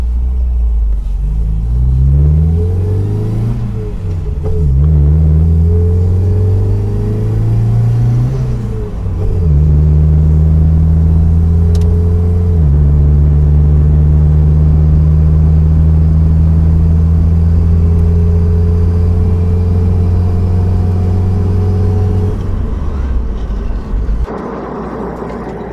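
A 1970s MGB Roadster engine pulls away in first gear, loud and close, its note rising through a few revs, dipping at a shift, then holding a steady drone before easing off near the end.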